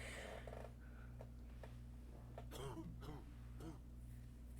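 Kaufman, a character in The Last Door video game, coughs a few times, faint raspy bursts over a low steady ambient hum.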